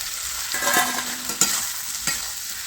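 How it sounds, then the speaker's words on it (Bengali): Egg pakoras being stirred into a sizzling pan with poppy seed paste, a low hiss broken by a few sharp clinks and scrapes of the spatula against the metal. "ভালোভাবে কষে নেব ডিমের এই পকোড়াগুলো দিয়ে দেবো"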